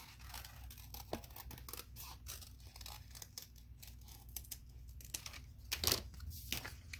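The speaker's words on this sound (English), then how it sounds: "I'm gonna kind of do a rough outline with my scissors, just following the bird." Quiet, close snipping and rustling of scissors cutting through paper card, with irregular small cuts and crinkles over a low background hum.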